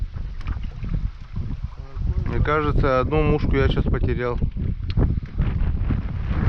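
Gusty wind rumbles against the microphone while fishing for grayling in the far north, a low steady buffeting under someone talking close by.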